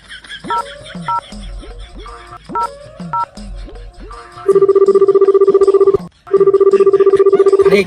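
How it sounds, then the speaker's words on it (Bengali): A phone call is placed: a run of short chirping dial tones gives way to a loud repeating electronic ringback tone, pausing briefly before resuming, close and clear. "দেখি ফোন দিই"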